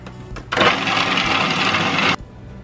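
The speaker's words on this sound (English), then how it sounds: "put the lid on the Maggi mix and blend" A Magimix food processor blends berry, coconut and raw honey ingredients, starting abruptly into a loud steady whirring roar for about a second and a half before cutting off.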